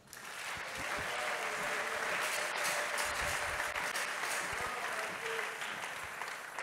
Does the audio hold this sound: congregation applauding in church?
yes